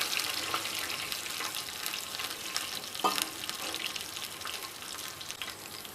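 Chili tempering oil sizzles and crackles steadily in a pan, with a sharp hissing burst partway through as water hits it, then continued bubbling.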